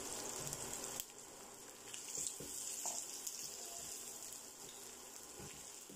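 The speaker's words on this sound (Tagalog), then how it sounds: "And then we're going to add the ginger." Ginger frying in a pan while cooking pork tofu with taosi, a faint, steady sizzle with a couple of soft knocks, heard close with no voices.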